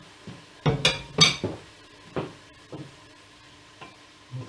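Onions and a spice blend sizzle in a pot for cabbage soup as a spoon stirs them, bringing a few loud scraping, clinking strokes over a soft frying hiss, then quieter intermittent stirs.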